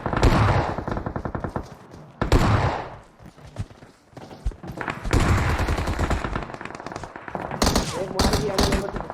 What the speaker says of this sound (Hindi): बहुत दूर गोलियां मारते हैं